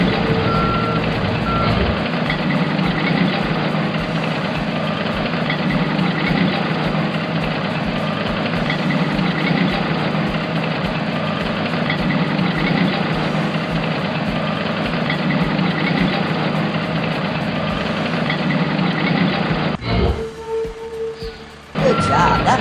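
A compactor garbage truck in a video game idles with a heavy, steady engine rumble while a reversing alarm beeps continuously and loudly throughout; near the end the engine note shifts.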